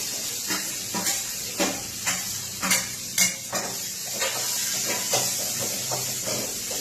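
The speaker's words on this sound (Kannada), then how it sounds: "ಸ್ವಲ್ಪ ಸಾಫ್ಟ್ ಆಗೋವರೆಗೂ ಈರುಳ್ಳಿ ಬೇಯಿಸ್ಕೋಬೇಕು." Onions frying with asafoetida, mustard seeds, cumin and turmeric in a pan, a constant close sizzle broken by repeated clattering scrapes of a metal spoon stirring against the pan.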